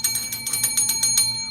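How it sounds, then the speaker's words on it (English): A bell rings rapidly and repeatedly, about a dozen bright metallic strikes in quick even succession, loud and close with no talking. "5 seconds of straight bell rings"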